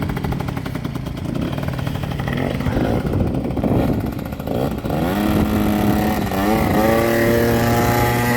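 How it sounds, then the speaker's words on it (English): A Yamaha Aerox YQ50 50cc two-stroke scooter with a newly replaced cylinder and piston revs hard on a test ride, its buzzing engine climbing in pitch as it accelerates, loud and close throughout. "Just gonna test ride it, make sure it works properly."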